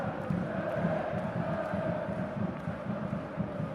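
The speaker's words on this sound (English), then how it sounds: "Look at the whole crowd go nuts." A football stadium crowd at a Copa del Rey match between Talavera and Real Madrid reacting to a penalty claim, a sustained roar with rhythmic swells and chanting, heard distantly through a broadcast.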